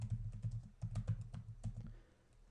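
Etherchannel commands being typed on a computer keyboard: a quick, uneven patter of close, quiet key clicks that slows and trails off near the end, with no voices.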